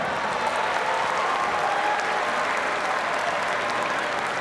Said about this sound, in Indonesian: kita mohon berikan tepuk tangan yang terbaik untuk legenda tinju Indonesia, Bung Elias Pikal.